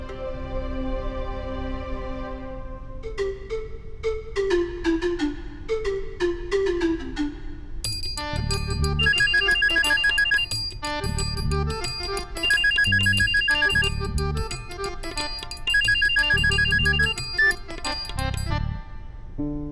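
A mobile phone ringtone plays loudly and alone: a rising melodic intro, then a bright chiming jingle that repeats in regular bursts.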